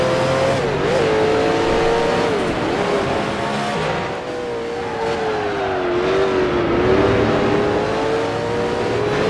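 Race car engine in the Grand Prix Legends video game, a 1966 Can-Am car at Mosport, revving hard and steadily through corners with a rising and falling whine, loud and continuous with no talk.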